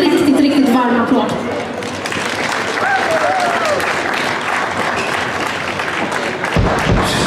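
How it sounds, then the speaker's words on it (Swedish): Loud, warm audience applause for a rock band at a summer outdoor event, dense clapping with cheers and a few whistles rising over it, continuing strongly throughout. "Ge dem en riktigt, riktigt varm applåd."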